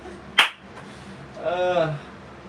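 A single loud, sharp hand clap rings out once near the start, followed by someone speaking.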